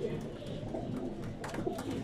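A pigeon coos softly nearby in low, throaty calls while people talk in the background.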